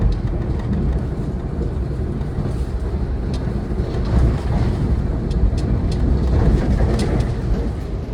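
Steady low rumble and broadband road noise fill the carriage of the Jayakarta Premium passenger train while it runs along, continuous and even throughout with no voices.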